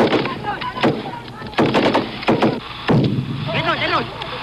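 Soldiers open fire with everything they have at a North Vietnamese soldier running in the open, a jungle battle in the Vietnam War; sharp gunshots crack out in irregular bursts alongside voices and other noise.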